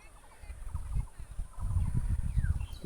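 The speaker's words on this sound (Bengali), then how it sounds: "এই যে পাখিগুলো উড়ে যাচ্ছে।" Several birds call in short bursts as they fly away over a low, gusty rumble before a rainstorm, the calls rising and falling across a few seconds.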